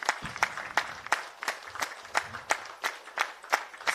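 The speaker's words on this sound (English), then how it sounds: "Big clap for Patriji." An audience at a pyramid meditation gathering claps for Patriji, steady separate claps landing roughly every third of a second in a slow, even rhythm at moderate distance, with no talk over it.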